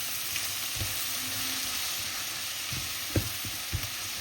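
Eggs frying and being stirred in a hot pan for Sri Lankan idiyappam kothu, a steady sizzle with a few sharp scraping and stirring knocks of a utensil, heard alone without talk.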